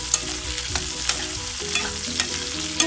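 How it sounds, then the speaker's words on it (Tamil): Eggplant pieces sautéing in oil for a drumstick sambar hiss softly while a spoon scrapes and taps the pan every half second or so, close and fairly quiet, with no talk. "கத்திரிக்காய் அதில் போட்டு கொஞ்சம் பரட்டி அதை வதங்க வைக்கலாம்."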